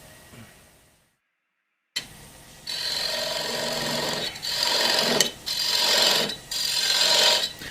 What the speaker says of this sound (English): Get the lathe spinning up.